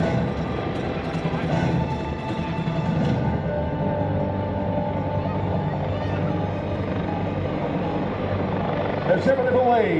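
A Coast Guard search-and-rescue helicopter at an airshow open house at Joint Base McGuire-Dix-Lakehurst, its rotor and turbine producing a steady, loud, continuous drone that fills the whole stretch without pause.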